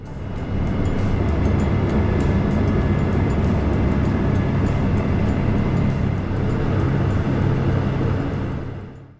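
A Sounds Air Pilatus PC-12 turboprop taxiing toward runway 02, heard from inside the cabin as a loud, steady, broad engine drone with a low hum, rising at the start and fading at the end.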